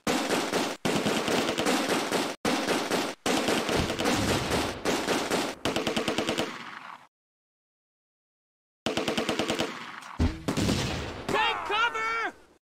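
Machine gun fire from a double machine gun team in the video game Close Combat: A Bridge Too Far, with loud, rapid staccato bursts broken by abrupt gaps and a brief silence, then more firing and shouted voices.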